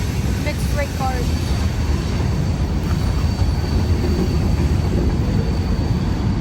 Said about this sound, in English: It's an empty dumpster train with a few extra mixed freight cars.